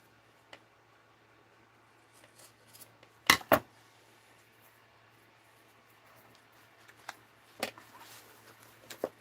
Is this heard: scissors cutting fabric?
yes